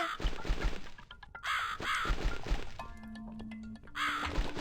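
A crow caws repeatedly in The Cat Lady, a horror adventure game: harsh, raspy calls recur in short groups over a dense, murky game soundscape, with a few thuds and cracks mixed in.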